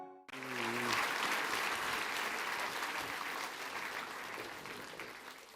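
An audience breaks into applause for a performer on stage, swelling quickly after a brief tonal sound and then holding steady, moderately distant, tapering slightly toward the end.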